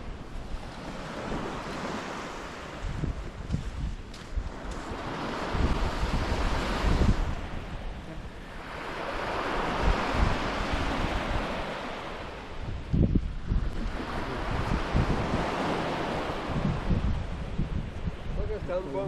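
Waves wash onto a shore in repeated surges, each swell rising and falling every few seconds, with steady wind buffeting the microphone throughout.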